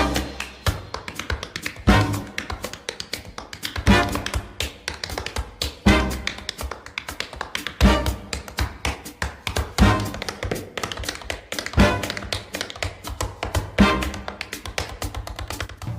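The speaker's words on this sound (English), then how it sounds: "This track uses tap dancing, which sounds amazing." Tap dancing in Sally's battle theme from the Cuphead video game, crisp rapid shoe taps in steady rhythmic bursts woven through a lively jazzy band accompaniment, with stronger accented beats recurring about every two seconds.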